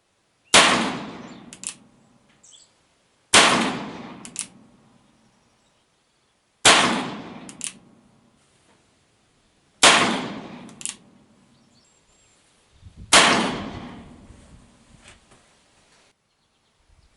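A 7.5-inch Uberti single-action revolver firing at a steel target outdoors: five sharp, evenly spaced shots, each followed by a bright metallic clang of the steel ringing out before silence.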